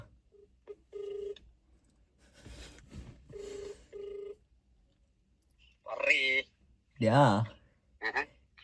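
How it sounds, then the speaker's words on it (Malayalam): A telephone is dialed with a few short, close electronic keypad tones, followed by louder buzzing phone tones and voices. "നമുക്ക് ശിവനെ ഒന്ന് വിളിച്ചു ചോദിക്കാട്ടാ."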